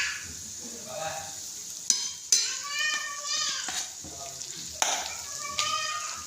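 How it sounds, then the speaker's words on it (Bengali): Rohu fish frying with ginger garlic paste in a pan, a steady soft sizzle broken by sharp clinks of a spatula against the pan and scraping stirs, with faint voices in the background. "আজকে রুই মাছ ভুনা করতেছি। এখানে ভালো করে একটু আদা রসুন দিচ্ছি,"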